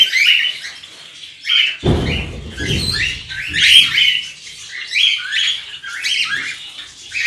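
Cockatiels, including lutino pairs, in a large aviary keep up a busy chorus of overlapping squawks and chirps, with a brief low rustling burst partway through and no talking.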